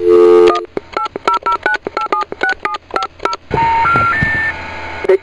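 Touch-tone keypad dialing of a toll-free 1-800 number: a quick run of about a dozen crisp, evenly spaced DTMF beeps, loud and close, then a line tone and a rising three-note intercept signal.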